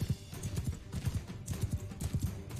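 Horse galloping in Mount & Blade II: Bannerlord, fast rhythmic hoofbeats drumming close and continuous, with no voices over them.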